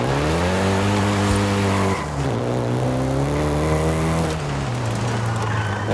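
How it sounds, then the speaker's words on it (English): A Volkswagen Golf GTI driven in Forza Horizon 5 in Mexico, its engine holding a steady loud drone that shifts pitch a couple of times as gears change, with no talk over it. "including the Golf GTI you're driving right now"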